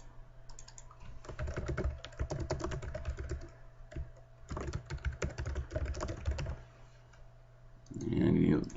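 Steady typing on a computer keyboard, close clattering keystrokes in bursts with brief pauses, under a low background hum, ending with a louder rustling noise.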